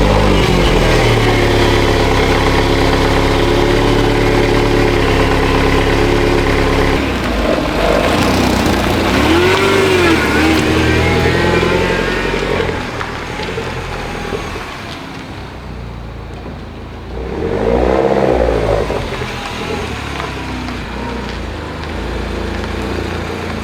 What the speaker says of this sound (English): let's move the Mini whilst the jump pack is charging